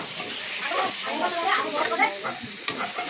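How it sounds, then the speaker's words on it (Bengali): Pieces of chicken sizzle loudly as they are sautéed and stirred in a pan, a close, crackling frying hiss with irregular spatters and scraping throughout. "মাংসটা ভালোভাবে কষাতে হবে, কিন্তু না কষালে কিন্তু হবে না"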